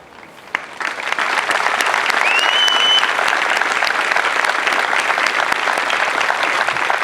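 Large audience at an Air Force basic military training graduation parade bursting into sustained applause that swells quickly and holds as a loud, dense wash of clapping, with a brief whistle-like tone partway through.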